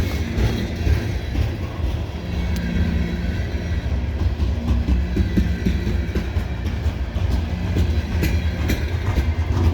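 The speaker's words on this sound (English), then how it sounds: "This train's got ample power because it's got the rear, so it's 3 locomotives for the 100 cars, sufficient power." CSX coal train of about 100 hopper cars with three locomotives rolling past during a snowstorm in Bartholows, Maryland, a loud continuous rumble with rhythmic clickety-clack of wheels over rail joints, no talking.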